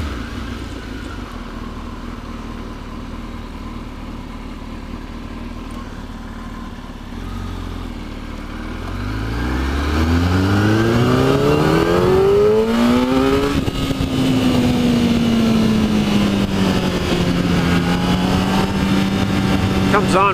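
A 2007 Kawasaki ZX10R motorcycle engine on a test ride idles low and steady, then revs hard from about ten seconds, its pitch climbing in rising sweeps before settling into a loud, sustained drone.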